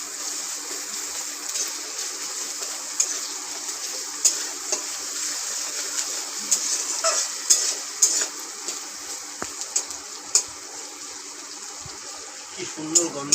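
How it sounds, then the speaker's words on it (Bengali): Onions frying steadily in a pan, a continuous close sizzle with small crackles and occasional stirring clicks throughout. "পেঁয়াজটাকে মোটামুটি ভালো করে ভেজে"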